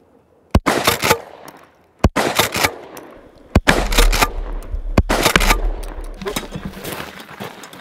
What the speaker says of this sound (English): Shotgun slugs, buckshot, 49